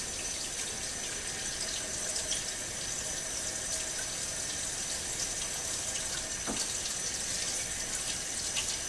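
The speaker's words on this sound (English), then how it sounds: "We're just going to put some more water in it." Steady running water pours and splashes into a jar of sprouting grains and beans, a continuous close hiss with a brief clink partway through.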